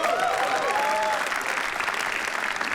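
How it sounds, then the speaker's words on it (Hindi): Audience clapping at a comedy roast battle, a dense, sustained round of applause from a crowd with some cheering voices mixed in, steady throughout. "तो एक बार पवित्रा के लिए तालियां हो जाए फिर।"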